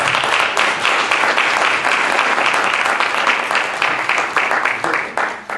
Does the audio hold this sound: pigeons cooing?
no